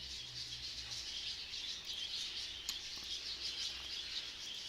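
Birdsong from The Last Door video game, a soft steady chirping ambience with a faint low hum beneath, continuous and fairly quiet throughout.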